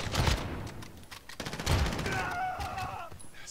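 Gunfire in the video game Call of Duty: Modern Warfare: fairly quiet, distant-sounding bursts and rattling volleys through the clip, with brief radio-like chatter mixed in.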